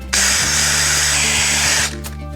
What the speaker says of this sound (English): Drill a hole through here.